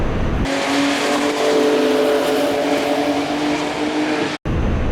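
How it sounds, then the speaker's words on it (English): A race car engine roars at steady high revs, loud and close, holding a sustained whine at about 128 mph down the straight at Watkins Glen International on a wet track day, before a brief sudden dropout near the end. "Flying down the straight here around 128 miles an hour."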